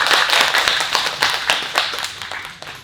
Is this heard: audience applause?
yes